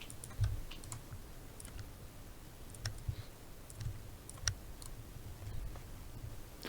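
Computer mouse clicks come during drawing work in Inkscape, sharp and quiet, spaced irregularly over a faint background hiss, with no speech.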